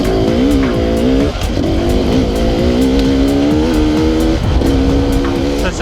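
A Beta RR300 enduro motorcycle engine is ridden hard in the lower gears, loud and close, its revs rising and falling in a buzzing, wavering pitch with brief dips at gear changes.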